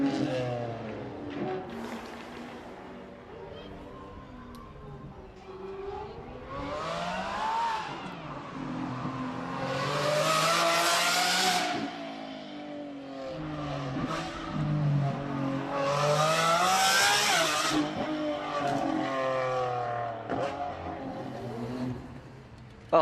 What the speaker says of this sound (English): next will be a brand new Lamborghini. Oh my goodness, what a noise.